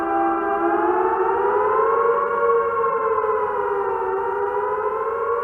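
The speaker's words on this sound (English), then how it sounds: "the following warning siren will sound in your homes." A civil defense siren wails loud and alone, a steady rising-and-falling tone that holds without a break.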